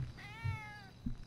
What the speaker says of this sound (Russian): Вот только кошки здесь где-то.